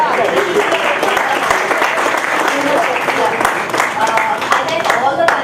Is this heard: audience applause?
yes